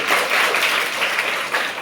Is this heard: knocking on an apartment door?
no